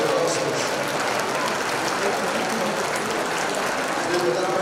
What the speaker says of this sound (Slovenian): Prosim, dajmo en aplavz za organizatorje